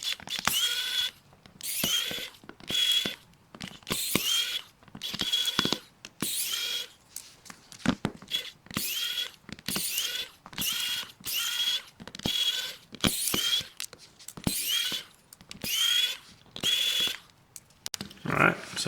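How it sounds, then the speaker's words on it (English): A screwdriver backs screws out of a Dialn X62 phone during teardown, making repeated close ratcheting clicks in regular bursts, many short sequences one after another with brief pauses. "now we got all these screws that we can take out"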